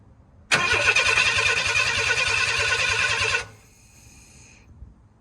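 A 1991 Ford F-150 pickup engine cranks with the starter's fast rhythmic chugging for about three seconds without starting, then cuts out, leaving a faint whine.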